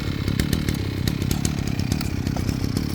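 A small two-stroke brush cutter, fitted with both a trimmer line head and a blade, runs near and loud with a continuous buzzing, rattling engine drone and no talk.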